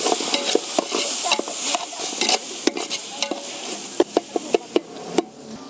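Onion and tomato masala sautés with chilli powder, fish masala and garam masala in a pan for a fish biryani cooked in a thatched hut, with a loud close sizzle and rapid spoon scrapes and clinks.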